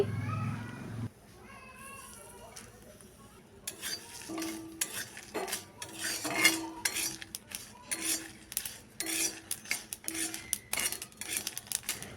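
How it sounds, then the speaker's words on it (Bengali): Chillies, garlic cloves and nigella seeds being stirred in a wok, with repeated scraping and clinking of a metal spatula against the pan over a faint sizzle, close by. "এবারে কড়াই বসিয়ে লঙ্কা কয়েক কোয়া রসুন অল্প কালো জিরে নেড়ে চেড়ে"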